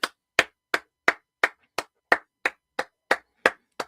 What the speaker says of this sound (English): Let's everyone give a round of applause to Mr. Mayhem right now.